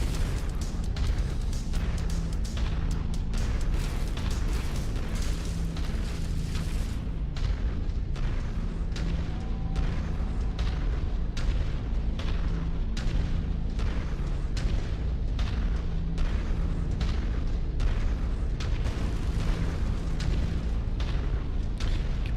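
In the video game MechWarrior 5 Mercenaries, an autocannon fires steady rapid booming shots with explosions over a constant low rumble, loud and continuous.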